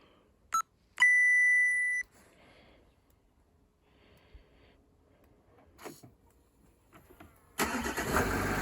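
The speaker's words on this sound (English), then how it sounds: "I'll just show you how to remote start the car using the app." A car is started remotely through a Bluetooth phone app. A short beep and a longer sustained tone come first, then quiet clicks, and the engine cranks and catches near the end, close by and with no talking.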